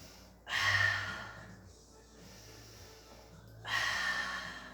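Slow, audible breaths during a pilates mat session: two strong airy exhales about three seconds apart, with a softer breath between them, close and fairly quiet, with no talking.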